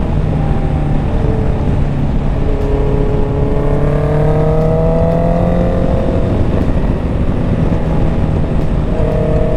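Honda CBR650R E-Clutch motorcycle pulling hard in fifth gear at around 40 mph, its engine note rising steadily and loudly through several seconds of continuous acceleration, with wind rush underneath.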